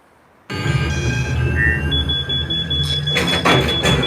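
An electronic alarm sound effect tried out during a final film mix plays for a few seconds, with steady sustained digital tones and pulsing bursts near the end, loud and continuous, with no talk.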